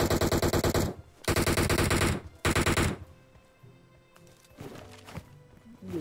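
Enemy gunfire in PUBG Mobile rattles out in three loud rapid automatic bursts, followed by quieter scattered shots and game noises.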